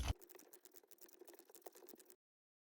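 Ratchet and socket loosening the rear bolt on a 2003 Sea-Doo GTX 951 DI engine, a faint, rapid run of small clicking ratchet pawls lasting about two seconds after a brief knock.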